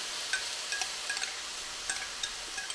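Spiced dehydrated veggie mixture being stirred into konjac noodles in a pan, with a soft steady sizzle and light scraping clinks of the utensil recurring close by.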